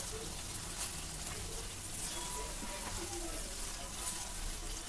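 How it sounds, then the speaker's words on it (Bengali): Chicken pieces being sautéed with spices, salt and chili in a pan for a red chicken bhuna, giving a steady, moderate sizzle and frying crackle close by. "তো চিকেনগুলো এই অবস্থাতে আমি বেশ কিছুক্ষণ কষিয়ে নিব"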